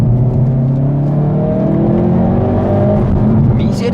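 Hyundai i30 N engine revving hard on the road, a steady harmonic drone rising in pitch with bursts of exhaust crackle, loud and close, with people talking over it.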